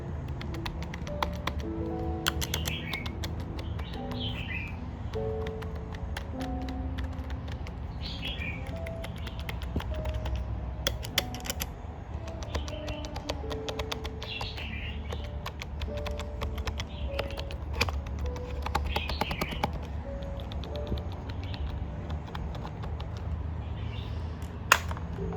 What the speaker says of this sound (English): let me press the keys so that you guys can hear how it sounds like